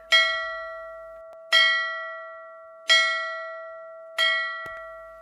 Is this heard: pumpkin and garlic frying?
no